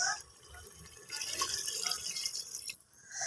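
Water poured into a cooker holding karela gosht, bitter gourd with mutton, making a steady close splashing stream that starts after a quiet moment and cuts off near the end.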